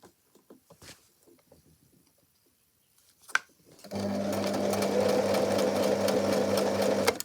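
A sewing machine stitches fabric for a pony ear bonnet, starting after a few faint handling clicks and then running steadily and loudly for about three seconds, alone without talk.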